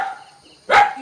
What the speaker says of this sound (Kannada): ಗಾಯ್ಸ್ ನಾಯಿಗಳ ಫೈಟ್ ನಡೀತಾ ಇತ್ತು ಇಷ್ಟೊತ್ತು.